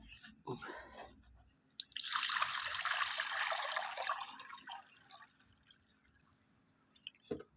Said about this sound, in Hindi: पानी में इनको डाल देता हूँ।